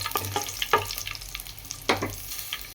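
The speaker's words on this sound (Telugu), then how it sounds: "పచ్చిమిర్చి అలాగే ఎండుమిర్చి కూడా వేసుకొని బాగా వేపుకోండి" Green chillies and dried red chillies frying with cashews in hot oil for semiya pulihora, a soft steady sizzle with a few sharper bursts as the pan is stirred, close and fairly quiet.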